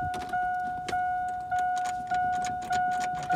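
A starter whirs over and over in rhythmic pulses alongside a steady electronic chime as a car engine running on laundry detergent instead of oil is cranked and fails to catch.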